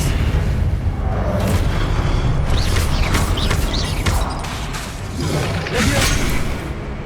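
Booming magical spell effects in the Hogwarts Legacy video game, layered blasts and crashing impacts over a dense rumbling game soundtrack, with the character's shouted incantation mixed in among several bright bursts.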